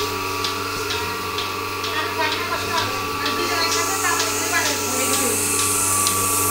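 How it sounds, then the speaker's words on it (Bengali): A Turkish Melasty milking machine milking a cow runs with a steady mechanical drone and rhythmic pulsing clicks, while a voice speaks over it. "এটা হলো তুরস্কের দুধ দহানো মেশিন, মিলাস্তি মিল্কিং মেশিন।"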